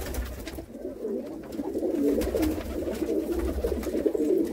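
Pigeons coo in low, rolling, repeated calls at an outdoor pigeon sale in Jammu, several birds overlapping close by without speech.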